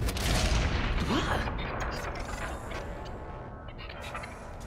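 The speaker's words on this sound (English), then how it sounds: "So there's the explosion." A video game explosion on a space station: a deep boom at the start that rolls into a long, rumbling, crackling decay fading over several seconds.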